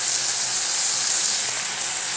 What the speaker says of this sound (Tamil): இன்னும் நல்லா வதங்குற வரைக்கும் நீங்கள் தண்ணி விடாமல் கூட இதை நல்லா வதக்கி விடலாம்.